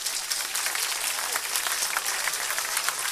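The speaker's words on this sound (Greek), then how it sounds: "Θα ήθελα το χειροκρότημά σας για όλους αυτούς τους ανθρώπους." An audience at an awards ceremony honoring Cretan artists in Heraklion claps steadily in a dense, even burst of applause from a crowd indoors.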